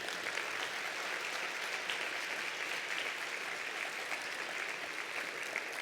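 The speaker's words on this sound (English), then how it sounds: "I think they deserve one more big round of applause" Steady, sustained audience applause at a conference session honoring research and advocacy work, a dense wash of clapping holding even and fairly loud throughout.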